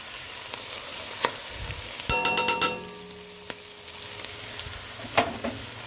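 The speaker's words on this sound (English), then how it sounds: "Then we are going to saute these for another probably about 2 minutes until the garlic starts getting fragrant" Onions, garlic and bay leaves sauté in a pot, a steady background sizzle broken by a few clinks and a quick rattle of utensil taps against the pot, with no speech.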